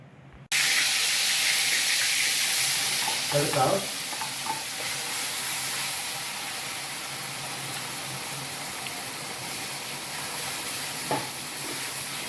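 Pav bhaji gravy tempering (vaghar) sizzles in a pan, a steady loud hiss with stirring scrapes after a sudden start, a few brief louder bursts along the way.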